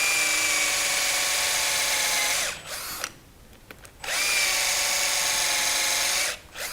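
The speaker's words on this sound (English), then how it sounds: "So you're going to start out drilling on the inside." Electric drill with an 11/32 bit boring into the inside of a wooden hollow form, a steady close whine running for a couple of seconds, breaking off briefly, then resuming before stopping again.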